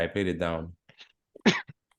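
A person speaks briefly, then lets out a single short, sharp sneeze nearby, followed by a quiet breath.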